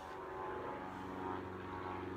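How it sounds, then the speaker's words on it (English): An airplane drones steadily overhead, a low continuous engine hum at moderate distance lasting the whole moment, alone without talk. "there's planes back in the sky"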